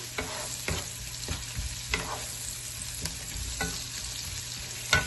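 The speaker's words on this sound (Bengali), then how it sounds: "এখন আমি আমার বাকি জিনিসগুলো, মরিচ, আদা কুচি, রসুন কুচি একটু দিয়ে দিলাম।" Onions frying in a pan with chili, ginger and garlic just added for an easy sweet and spicy chicken korma, a steady close sizzle broken by repeated scraping stirs of the spoon.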